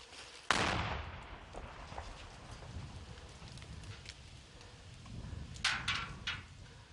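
Heavy gunfire and explosions in a war zone around the ruined village of Pisky: a sharp loud blast near the start, then scattered distant shots and rumbling, with a cluster of sharp reports toward the end.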